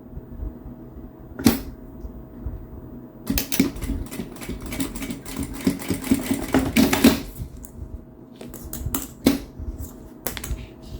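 A sewing machine stitches a fabric pouch in loud, close bursts of rapid clatter, with a sharp click before the main run and short stops between stitches.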